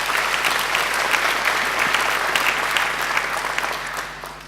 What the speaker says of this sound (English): I think he deserves another round of applause for a great speech.